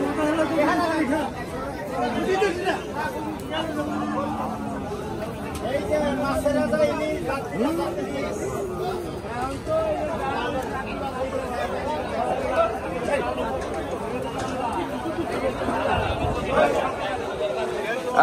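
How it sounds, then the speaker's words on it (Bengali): Dense crowd chatter at a cattle market in Hazratpur, Bangladesh, where buyers and sellers bargain; many overlapping voices form a steady, close hubbub throughout. "এখানে দরদাম হচ্ছে তার সাথে।"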